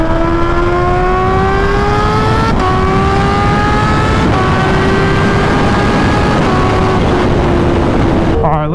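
A Kawasaki Ninja H2 motorcycle is ridden at speed, its engine tone running steadily and climbing through gear changes, with brief dips at each shift, loud and close with heavy wind noise throughout.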